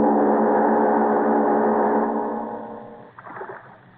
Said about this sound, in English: But why must you row me there?